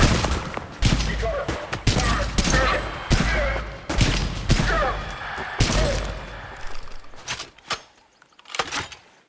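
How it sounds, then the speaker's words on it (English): Gunfire from weapons in the video game Adaca comes as rapid, punchy bursts of shots, loud and close, with short gaps and a few final scattered shots as the firing tails off. "The guns in this game still feel chunky, and they have good responses when you nail the target with them."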